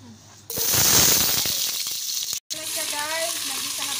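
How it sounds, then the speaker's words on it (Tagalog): Onion and garlic hit hot oil with sardines, a sudden loud sizzle that bursts in and stays strong before easing, followed by a person talking over the quieter frying. "igisa natin na ang sibuyas saka bawang with sardinas"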